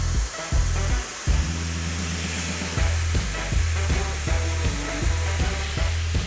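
A hair dryer fitted with a roll brush nozzle blows steadily and loudly up close while styling hair, its airflow roaring continuously with rhythmic brushing and shifting pitch as the nozzle moves through the hair.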